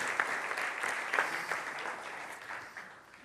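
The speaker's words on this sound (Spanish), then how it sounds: "Denle un fuerte aplauso al Señor." A church congregation applauds in a continuous wash of many hands clapping together, steady and moderately loud at first, then easing slightly near the end.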